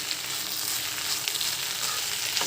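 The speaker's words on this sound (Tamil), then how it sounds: "எண்ணெயிலையும் நல்லா வதக்கணும்." Lady's finger (okra) fries in oil with a dense, even sizzle and a few faint stirring scrapes, close and continuous for a brief stretch, with no speech.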